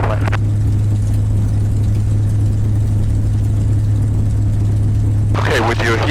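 A North American P-51 Mustang's piston engine rumbling steadily at low power while taxiing, heard as a constant deep drone from the cockpit. A voice speaks briefly over it near the end.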